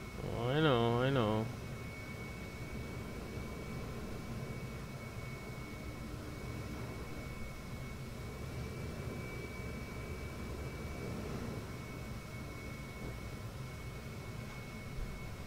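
A spaceship engine in the video game Star Citizen gives a steady, broad rushing drone with a thin whine on top. It runs unbroken through the whole stretch, and a voice speaks briefly at the start.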